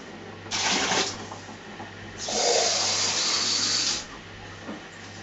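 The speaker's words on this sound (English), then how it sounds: "So I'll start adding the cold water." Cold water is poured from a plastic jug into a wine-making container in two separate splashing, hissing pours, the second longer than the first, with a quiet pause between them.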